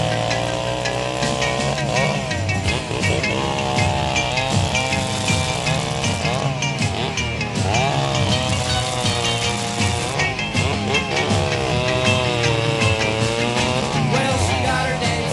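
Several vintage chainsaws run together at an outdoor chainsaw get-together, engines loud and continuous, revving up and down in overlapping wavering whines with no pauses.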